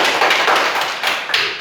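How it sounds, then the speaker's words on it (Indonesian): A class of children clapping their hands together close by, a burst of fairly loud, steady claps that swells again near the end, with no voices. "Tepuk tangan dulu."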